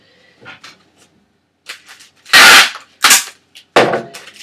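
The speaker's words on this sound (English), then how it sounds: "so I'll just tape this. Where did my tape gun go?" A tape gun seals a ceramics shipping package in several loud, sharp ripping screeches, the strongest bursts close together in the last two seconds after softer rustles.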